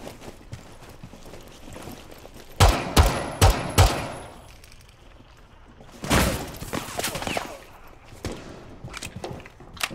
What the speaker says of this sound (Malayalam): വെടിയൊക്കെ ഉണ്ട്.